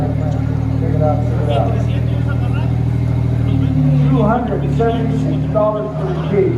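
A 2007 Dodge Charger with a six-cylinder engine and automatic transmission idles with a steady, close hum while someone talks over it.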